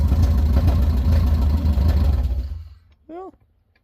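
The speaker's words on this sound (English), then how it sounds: "it's idling on its own. Does not like idling." A Subaru drift car engine with an open header idles roughly, a loud, lumpy low rumble that fades out after about two and a half seconds, followed by a brief voice.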